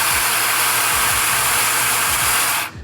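A freshly cleaned and lubricated power tool runs loud and steady for nearly three seconds with a faint low pulsing beneath its whir, then cuts off abruptly.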